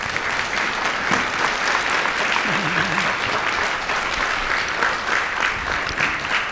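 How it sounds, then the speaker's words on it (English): Steady, dense applause from a panel-discussion audience fills the whole stretch at an even level, with no talk over it. "give them a round of applause"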